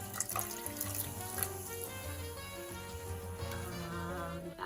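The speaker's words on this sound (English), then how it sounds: "We're going to gradually add the lemon lime soda." Lemon lime soda pours into a mushroom, egg and bread mixture with a continuous close fizzing splash and trickle, steady and moderately loud, with no talking.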